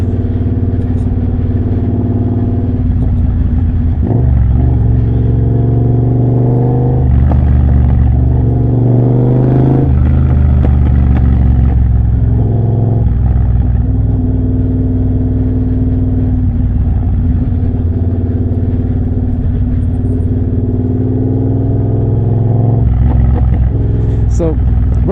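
Triumph Bobber motorcycle fitted with a Motone Mayhem X-Pipe exhaust, riding along a road with a loud, continuous engine drone that rises and falls as the rider shifts and accelerates, close and steady throughout.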